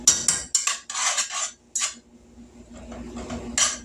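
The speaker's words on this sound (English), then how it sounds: "I can't stand that scraping noise on the bottom of that pan" A spoon scraping and clinking against the bottom of a pan while taco spaghetti pasta and butter are mixed, several short close rasping strokes followed by a quieter stretch and a final scrape.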